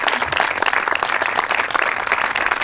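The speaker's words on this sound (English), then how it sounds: "I'd like to give them a round of applause" A short burst of audience applause for students at a bus unveiling event, moderately loud and steady clapping from a modest crowd.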